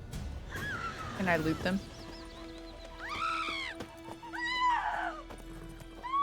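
Geralt's horse Roach in The Witcher 3 video game, with a few wavering, rising-then-falling neighs and whinnies, a short clip-clop of hooves early on, a game tone beneath, and someone speaking briefly.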